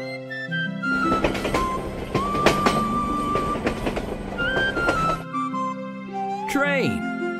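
Animated train on rails, a busy rattling run of clacks and metallic knocks with a sustained whistle-like tone, lasting several seconds before stopping abruptly, with music around it.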